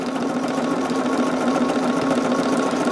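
A sewing machine stitches quilt sashing with a steady, continuous whirring hum that holds at an even level for the whole stretch, close to the microphone and with no talking.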